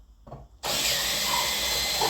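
A power drill fitted with a 9.5 mm bit starts up abruptly after a brief clatter and then whirs loudly and steadily while boring a hole, as part of building a DIY chicken water feeder.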